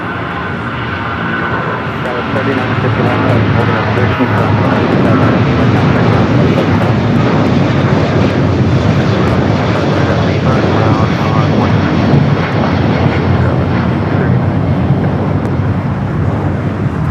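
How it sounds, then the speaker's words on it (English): American Airlines Boeing 777 taking off at LAX, a loud, heavy engine roar that builds quickly and stays strong and rumbling through the takeoff roll, with people talking in the background. "the American 777 and now rolling down at 25 at right"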